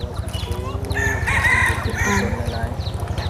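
A rooster crows at a temple, Wat Ta, with a loud, drawn-out call in the middle of the clip over a steady, rhythmic low background.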